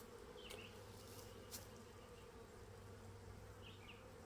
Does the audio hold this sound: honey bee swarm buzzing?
yes